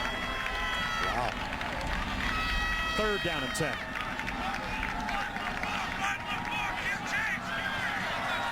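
Loud, steady roar of a college football stadium crowd during a third-and-ten play in the 2011 Kansas State vs Baylor game, with a commentator talking over the continuous noise.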